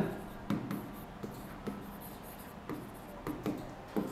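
A pen writing a trigonometry proof by hand on paper, with soft scratchy strokes and several light taps over about four seconds.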